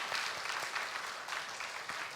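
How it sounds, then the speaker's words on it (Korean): A church congregation at a Korean Sunday service claps steadily together, a dense patter of applause that continues throughout at moderate volume. "박수 한번 하겠습니다."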